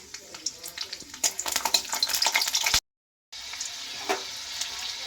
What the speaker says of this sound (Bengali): রসুন আর শুকনো লঙ্কাটা সবার প্রথমে আমি ভেজে নিচ্ছি।